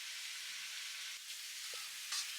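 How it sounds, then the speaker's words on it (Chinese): Chicken pieces with skin frying in a hot wok for taro chicken, a steady close hiss of sizzling oil throughout, with a couple of faint soft knocks and no talking. "鸡肉的表皮稍微煎一下，这样鸡肉的味道会比较香"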